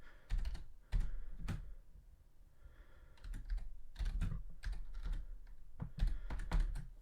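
Rapid typing on a computer keyboard, close and crisp, with bursts of quick keystrokes separated by short pauses, then a longer dense run of clicks.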